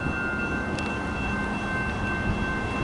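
BNSF freight locomotives approach along a railway in the Puget Sound area, a steady low rumble with faint tonal whine, fairly distant and continuous, no voices.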